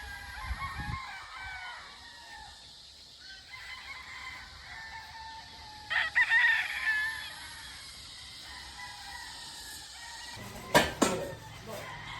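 Roosters and chickens at a poultry spot, scattered crowing and clucking at middle distance with a louder crow burst near the end, set against quiet outdoor background and faint voices.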